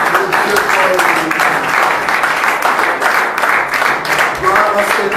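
A church congregation applauds in praise of the Lord during a worship service: steady, dense clapping carries on for the whole stretch with voices mixed in.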